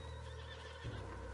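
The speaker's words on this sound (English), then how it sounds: "What's wrong with this horse?" A horse neighs loudly and close by, a drawn-out whinny with a short snorting break near the end.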